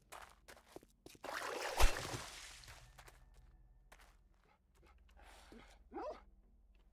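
A dog barks in the zombie survival game 7 Days To Die, a short sharp burst from a distance amid footsteps and ambient game noise, with a couple of quieter whimpering yelps later.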